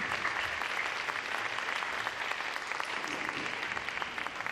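An audience at a hot spring academy lecture event in Beppu applauds steadily, dense even clapping from a mid-sized crowd sustained throughout at moderate distance, with no talk over it.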